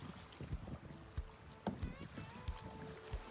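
A kayak runs through river rapids in the Arizona desert, with steady rushing water and splashes and several sharp paddle strokes and knocks close by, plus a few brief voices and wind buffeting the microphone.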